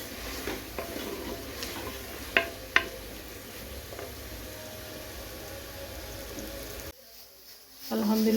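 Onions browning in ghee in a pot for aloo gosht, a steady close sizzle with a few sharp clinks of stirring, then a brief quieter gap before the frying noise returns.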